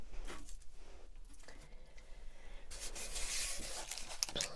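Sheets of paper being gathered and handled during a close-up colour analysis session, soft close rustling, rubbing and crinkling that grows busier and brighter toward the end, with no talking.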